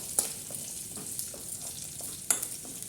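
Onions frying in a pan on a stove give a soft steady sizzle, broken by a few sharp scraping clicks as they are stirred, close and without voices.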